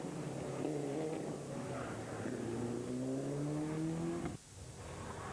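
Group A rally car driven hard at a rallysprint at Punchestown, its engine note rising steadily in pitch as it accelerates through the gears, loud and fairly close, then cutting sharply to a lower drone.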